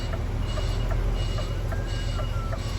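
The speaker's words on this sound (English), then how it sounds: "Luckily it wasn't too hard of a reverse." An HGV truck reverses with its beeper sounding in a steady, regular series of tones over a constant low engine rumble, heard fairly close and without talk.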